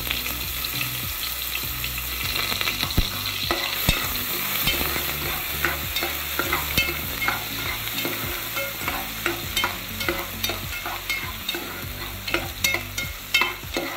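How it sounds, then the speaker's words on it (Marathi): Chopped onion dropped into hot oil, sizzling steadily while a spoon stirs and scrapes the pan in repeated knocks, close and fairly loud with no talking. "तेल तापलेलं आहे चांगलं. तर कांदा टाकते."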